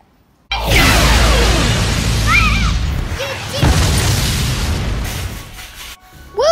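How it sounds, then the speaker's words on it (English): A toy laser blaster smashing through a wall in a pretend pirate treasure hunt game: a loud crashing boom with crumbling debris, followed by short whistling zaps, then quieter rumbling. "You broke the wall with your laser blaster."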